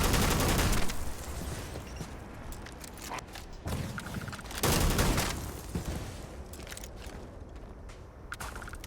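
Bursts of video-game gunfire from Starfield's Shattered Space expansion, loud volleys at the start and midway with scattered shots and footsteps between, filling the whole stretch without talk.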